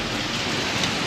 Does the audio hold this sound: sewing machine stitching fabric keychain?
no